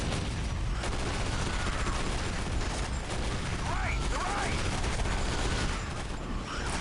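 Dense bursts of SMG gunfire crackle through a firefight in the Area 51 video game, forming a continuous loud barrage of rapid shots with mechanical clatter and a voice talking briefly beneath it.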